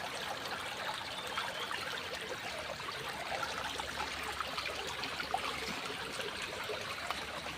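A river flows steadily through a cave, a continuous, moderately faint rushing and trickling wash of water with no voices.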